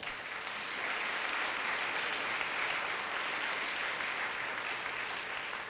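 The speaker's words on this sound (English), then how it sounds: "let's give a round of applause for Lunn Pride" Dense, sustained audience applause at the 2017 athletics Hall of Honor Night of Champions for a former Kansas and WNBA basketball player being inducted, a full wash of clapping that holds steady without voices.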